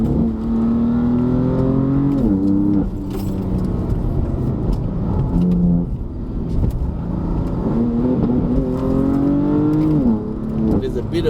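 A BMW M4 fan car drives a misty mountain road at Genting, its engine droning and rising with brief dips and splutters. Someone talks over the interior engine noise.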